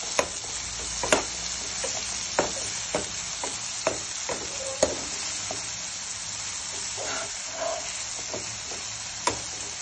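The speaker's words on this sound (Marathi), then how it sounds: "कांदा आणि टमाटा छान परतून झाला आहे" Chopped onion and tomato sautéing in a pan for misal pav: a steady, close frying sizzle broken by sharp scraping stirs of a spatula every second or so, with no voices.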